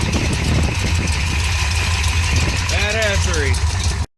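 An old muscle car engine that had been sitting idles after a cold start, exhaust exiting through a brush-welded muffler; a steady, loud, close rumble runs throughout while someone talks over it.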